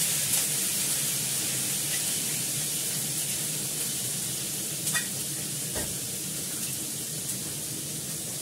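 Onion and ginger paste hitting a hot pan, giving a steady, broad sizzle with faint stirring scrapes and a few brief clinks, continuous and fairly loud throughout.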